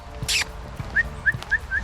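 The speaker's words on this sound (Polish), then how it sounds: "O, piesek akurat." Small dog in a city park in Katowice giving a series of four short, high whimpers in quick succession, with light rustling and faint background noise around them.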